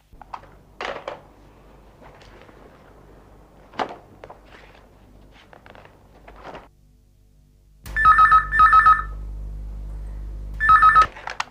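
Office telephone rings out in two loud double-burst bursts near the end, following a quiet stretch of faint footsteps and small handling noises.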